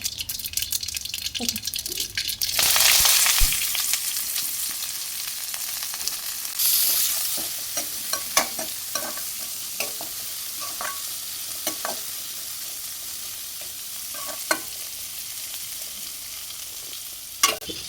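Cumin, mustard seeds, onion and chili sizzle steadily in hot oil for eggplant fry, with a loud burst of spattering early on and repeated scraping clicks of a spoon stirring the pan throughout.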